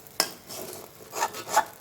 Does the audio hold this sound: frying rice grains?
yes